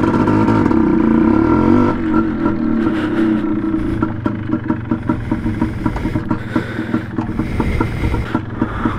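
A Yamaha DT125 motorcycle's engine on a break-in ride, loud and close with wind buffeting at first, then settling into a steady rhythmic putter with regular pulses.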